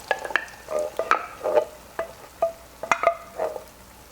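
Diced tomatoes with basil, garlic and oregano being stirred into an Italian-style chicken soup, a spoon knocking and scraping against the pot in short, irregular strokes, close and moderately quiet.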